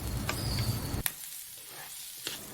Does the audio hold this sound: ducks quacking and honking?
no